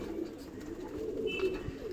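Pigeons at a pigeon shelter give soft, low cooing calls that sit faintly over a quiet background hum, with a few brief coos close together.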